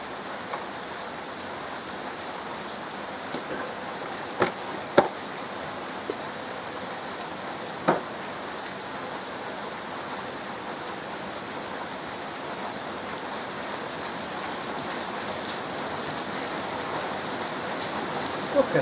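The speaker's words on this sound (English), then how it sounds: "that rain's unreal" Heavy rain falls steadily and loudly in a close, dense hiss, with a few sharper drop impacts standing out now and then, and no voices.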